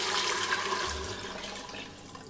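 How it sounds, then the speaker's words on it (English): Water pours into a pot for albondigas soup, a loud, steady rushing splash close by with no talk over it. "next, you want to add your water"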